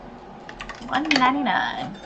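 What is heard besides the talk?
typing in numbers on keyboard in TCG Card Shop Simulator video game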